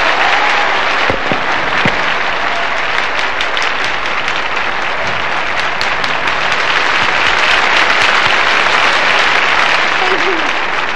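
Loud, sustained applause from the audience at a 1968 concert in Amsterdam, honoring the conductor and orchestra, with dense clapping and crowd noise throughout and a voice briefly heard within it.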